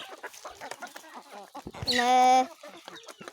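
Native backyard chickens at a house clucking and chattering nearby while fed rice, with one loud drawn-out squawk in the middle, soft voices murmuring underneath.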